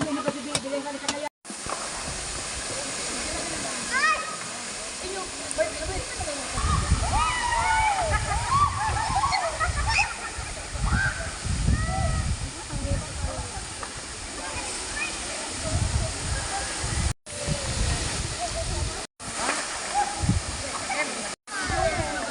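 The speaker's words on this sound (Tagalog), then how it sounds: "Dumadami at kumukonte ang buhos ng tubig depende sa oras at panahon." Palale Falls, a waterfall in Diaro, Malinao, Albay, pours with a steady broadband rush throughout, and a voice talks over the constant water noise.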